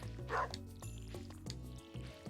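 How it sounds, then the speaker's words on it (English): A dog in Stardew Valley Expanded barks for water in its bowl, giving a short run of repeated bright yips over a steady low game background with no speech. "Yes, dog, I know. You need water in your bowl."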